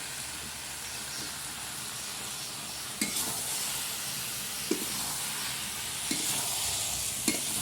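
Ginger paste sautés in a pan with a steady, moderate sizzle, punctuated every second or so by sharp clicks of a spatula scraping and stirring.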